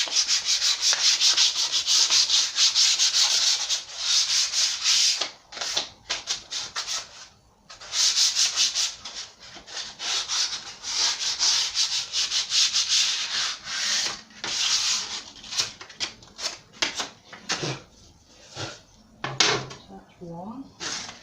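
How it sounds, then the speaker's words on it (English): Hand sanding along the edges of an old painted wooden bookcase, repeated close scratchy strokes in quick rhythmic bursts with short pauses between passes, with a voice heard briefly over it. "So I'll just sand the edges."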